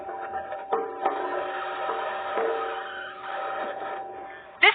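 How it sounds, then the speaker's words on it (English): A Mars rover's metal wheels driving over rocks: a continuous whirring, grinding mechanical drone with scattered clanks and ticks and a sharper knock near the end. "This is the sound of the rover driving on Mars."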